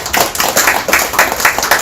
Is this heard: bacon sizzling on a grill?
no